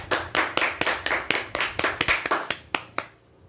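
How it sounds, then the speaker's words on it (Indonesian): Classroom applause after a student presentation: a short burst of about a dozen sharp, fairly regular claps, close and clear with no talking, ending abruptly into near silence. "Beri tepuk tangan semuanya"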